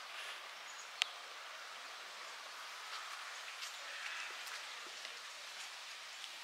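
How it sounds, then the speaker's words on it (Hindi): Steady rain falling outdoors on a winter trip in Chopta, a continuous even hiss with scattered faint drips and taps, no voices. "देखो बारिश हो रही है यार कंटिन्यूसली"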